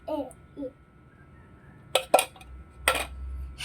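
A spoon stirs and scrapes a pot of ube halaya, giving a few sharp clattering strokes near the end. Children talk and babble faintly before the stirring starts.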